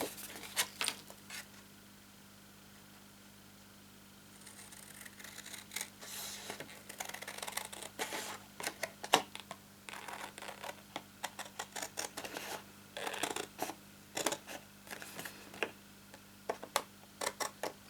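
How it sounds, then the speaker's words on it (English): Scissors cutting paper along pencil and score lines: a quiet opening, then a run of close, crisp snips and ticks at an uneven pace over a faint steady hum, with no talking. "we're going to cut on the pencil line, but then we're going to go straight up on that score line, cut that off altogether."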